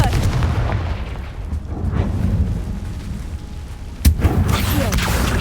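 A Confringo explosive spell blast in the game Hogwarts Legacy, heard as a sharp, loud boom near the end that follows rumbling combat noise and an earlier muffled thud.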